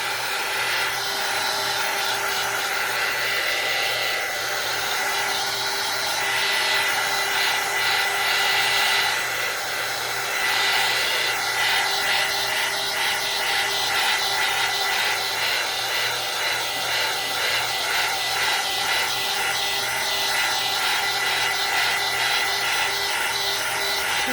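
A hair dryer blows steadily on an acrylic gelli plate print, a loud, continuous whooshing hum that wavers slightly in pitch for over twenty seconds, with no voices.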